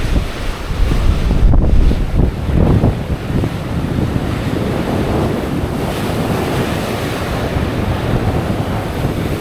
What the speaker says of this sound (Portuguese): O vento também está mais forte que o de costume.